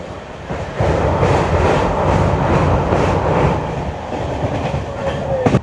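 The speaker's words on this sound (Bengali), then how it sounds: "কোনো train particularly brand new LHB rake পাওয়ার পরে সেই ট্রেনে কখনো যাত্রা করে দেখবেন" A brand-new LHB rake on the Sealdah-Ballia Express runs steadily along the track, a loud continuous rumble with rhythmic clickety-clack heard from inside the coach, with a brief squeal near the end.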